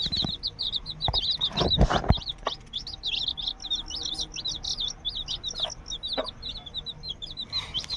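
Many small chicken chicks chirp continuously in high, rapid peeps, with a few soft clatters and thumps nearby.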